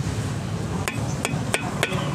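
Four sharp knocks by hand on the metal engine guard of a Yamaha FZ-X motorcycle, spaced about a third of a second apart, over a constant low engine rumble.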